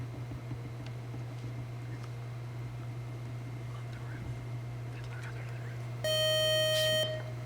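A quiz show buzzer sounds during a high school quiz match, one loud sustained electronic buzz of about a second near the end, after a stretch of quiet room hum.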